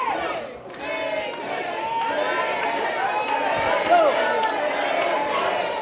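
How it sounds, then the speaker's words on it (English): A boxing arena crowd chants a fighter's name in a loud, sustained rhythmic mass of voices with whistles cutting through, filling the space continuously for several seconds. "Crowd chanting JJ."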